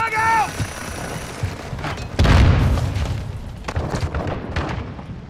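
A grenade goes off in a shooter video game with a heavy close boom and a rumbling tail that fades over a few seconds, followed by scattered distant pops. A brief game voice comes just before it.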